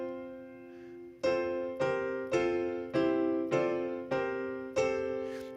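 Dissonant triads voiced in the style of Georgian polyphonic singing, played on a piano: after a soft opening, six or seven struck chords land roughly every half second, each ringing and slowly decaying, close and clear with no talking.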